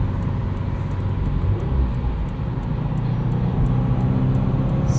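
A 2020 Subaru WRX Premium cornering on the road, heard from inside as a steady engine drone with road and tyre noise, loud and continuous throughout.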